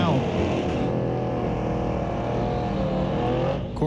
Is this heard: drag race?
yes